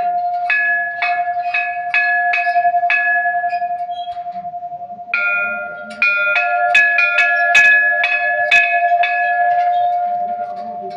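Children strike a ring of small temple bells beside a reclining Buddha at a Thai temple, sending out a fast, uneven series of bright metallic clangs over a sustained ringing tone, with quiet voices in the background.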